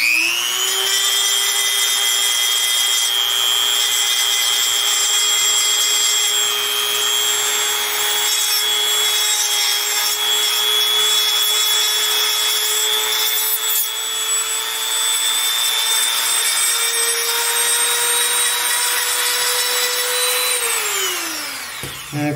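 A Dremel rotary tool grinds steadily along the back of a repulsor prop part to flatten it. It gives a loud, close, unbroken high whine that holds for about twenty seconds, then spins down in pitch at the end. No one speaks.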